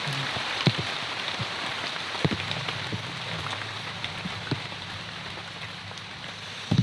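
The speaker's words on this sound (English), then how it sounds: "It's just water coming off the canopy at this point." Steady patter of water dripping from an Amazon rainforest canopy after rain, with scattered heavier drops landing irregularly over a constant soft wash.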